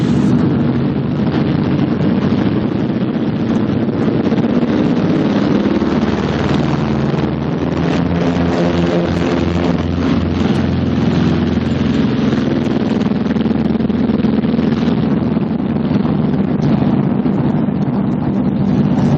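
A B-26 Marauder bomber's piston engines drone steadily in flight, loud and close with a constant roar and wind rush, as the engines are throttled back to normal rated power.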